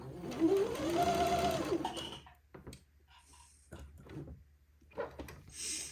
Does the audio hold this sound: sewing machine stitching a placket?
yes